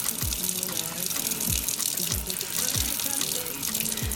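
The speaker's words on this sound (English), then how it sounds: "And now we're gonna rinse the soap out, and we're shaping the brush too." A steady stream of running tap water pours continuously as soap is rinsed out of a makeup brush, with low gurgling and dull thumps recurring under the flow.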